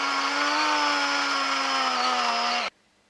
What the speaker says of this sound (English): Now going to drill a hole in the knee pads.